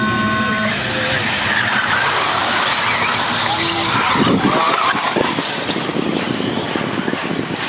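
Four-wheel-drive stock cars race in an invitational heat, engines roaring loudly and continuously with tires squealing and skidding throughout, no voices over the din.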